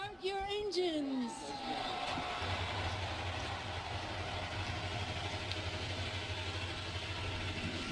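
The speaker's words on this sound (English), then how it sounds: "40 drivers fires up their engines and will now roll off of pit road onto the track" Forty NASCAR Xfinity stock cars at Auto Club Speedway fire up together on pit road, settling into a steady, deep massed engine drone after a few seconds of voice and tonal sound at the start.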